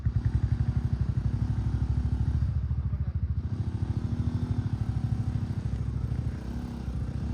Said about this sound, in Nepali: उसलाई बाइकमा देख्न सक्नुहुन्छ